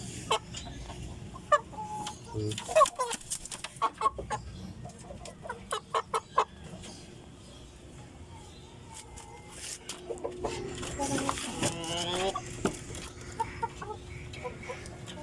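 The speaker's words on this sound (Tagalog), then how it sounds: "Ngayon laking manok." Native chickens cluck in scattered bursts, a few sharp calls early on and a busier flurry of clucking later, over a low background hum.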